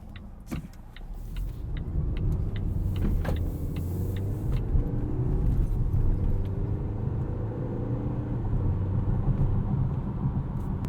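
Volvo T8 plug-in hybrid running in charge mode on engine power alone, a steady low rumble and road noise from inside the cabin with a few brief clicks early on.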